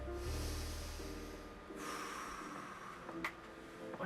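A person draws one deep, audible breath through the nose, close and fairly quiet, followed by a soft exhale and light rustling.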